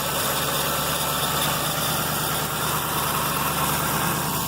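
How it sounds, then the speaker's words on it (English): A car engine idles steadily after a new battery went in, a continuous close rumble with a faint knocking texture and no talking. "Got her running, gonna let her run for a while,"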